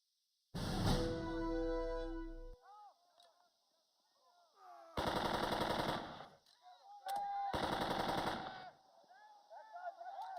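Machine gun fire in the wartime strategy video game Burden of Command: loud sustained bursts of automatic gunfire in three separate volleys, with quieter battlefield sounds and faint shouts between them.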